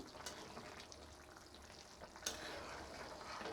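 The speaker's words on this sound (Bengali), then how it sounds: "ও কেমনভাবে ফুটছে পুরো একদম খুব জোরে" A curry of small soybean chunks and potato bubbles hard in a wok over a high gas flame. It makes a steady, crackling sizzle throughout, with a brief sharp tick partway through.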